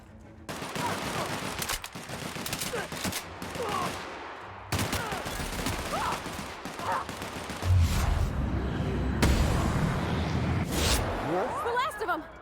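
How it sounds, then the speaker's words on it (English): Enemy gunfire in The Outer Worlds, repeated bursts and volleys of shots cracking out over a steady game soundscape, with a voice talking intermittently throughout. "now he pulls out his gun"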